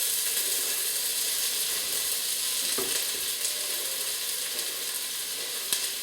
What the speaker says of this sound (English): They love the sound of sizzling onion on a hot and sweaty top hob.